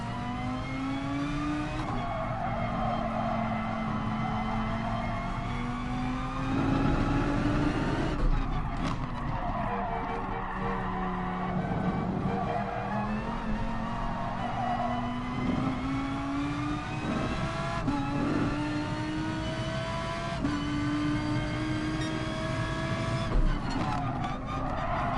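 A race car in the Gran Turismo racing video game corners hard, its engine droning and rising through the gears while tires squeal and skid steadily through the turn, loud and continuous with no talk.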